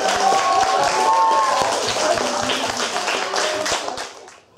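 Enthusiastic applause from an audience at a literary reading event, a dense, steady burst of clapping lasting several seconds before tapering off at the end.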